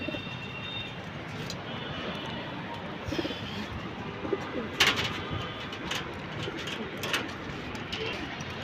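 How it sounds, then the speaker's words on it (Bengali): Pigeons coo softly and repeatedly, low murmuring calls layered over faint background noise, with a few brief flutters and chirps. "এগুলো আমার শখের কবুতর"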